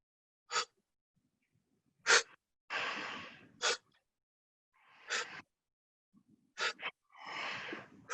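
Breathing during a Pilates class: a series of sharp nasal sniffs and longer breathy exhales, close and clear, separated by silent pauses.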